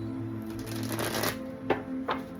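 A tarot deck is shuffled close up in a soft riffling burst, followed by two quick, crisp card snaps over a faint steady hum, with no talking.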